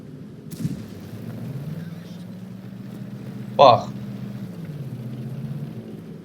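One heavy cannon blast from a Waffenträger auf Pz. IV tank destroyer firing an armor-piercing shell in a video game booms in the middle over a low engine rumble, with a voice talking through it.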